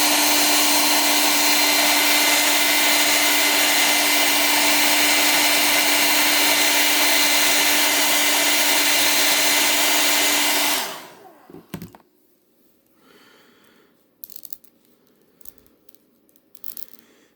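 A hair dryer blows steadily and loudly for about eleven seconds while heating the stiff joints of a Hiya Toys Injustice 2 Bane 1:18 scale action figure, then cuts off, leaving faint handling clicks and taps.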